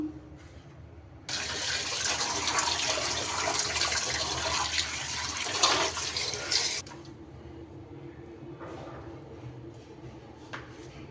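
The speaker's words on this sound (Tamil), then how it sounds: "நல்லா க்ளீனாக கழுவி தான் கொடுத்துருக்காங்க, இருந்தாலும் நம்ம கழுவணும் இல்லையா, அதுக்காக தான் கழுவிட்டுருக்கோம்." Tap water gushes steadily into a sink while sardines and anchovies are rinsed. A sudden loud flow runs for about five seconds, then drops to soft trickles and drips.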